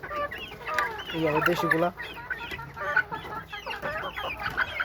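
White rooster chickens cluck steadily and loudly in a rainy-day coop at feeding time, with several overlapping calls close by and someone speaking over them.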